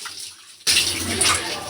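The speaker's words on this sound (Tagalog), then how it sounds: "So dito nga ay nagbanlaw nga to ng konti si madam." Water poured from a bucket while rinsing in a bath, a sudden loud splashing gush that starts after a quiet moment and continues steadily to the end.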